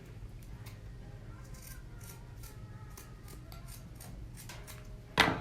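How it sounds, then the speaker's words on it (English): Scissors cut through a fabric sock in a crafting setting. A string of soft, close snips and rubbing sounds repeats over a low background hum, and a sharper rustle comes right at the end. "take your sock and cut about 2/3 of"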